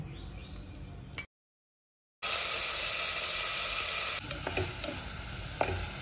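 Potatoes frying in hot ghee for sabudana khichdi, a bright steady sizzle with stirring scrapes, cut by a second of silence and then returning loud and close, softening slightly toward the end.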